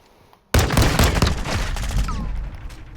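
Bruen .45 rifle gunshots in Modern Warfare 2, a loud rapid automatic burst erupting suddenly after a short quiet moment and echoing as it trails off.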